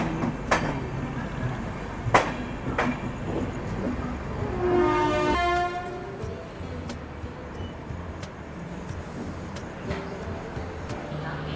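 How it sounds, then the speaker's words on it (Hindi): Alco diesel locomotives shunting at Kanpur Central railway station in the early morning: heavy metallic clanks and knocks of rolling stock, a passing rumble of wheels, and a brief horn-like tonal burst amid station bustle. "सुबह सुबह ये एल्को लोकोमोटिव्स अपने शंटिंग ड्यूटी के लिए शुरू हो चुके हैं"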